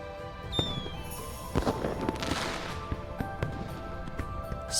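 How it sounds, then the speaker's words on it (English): Video game fireworks bursting over a river at night, with soft crackling pops and sharp bangs scattered through the scene against a steady ambient music bed. "Sparks rise into the night sky and explode with a soft crackling."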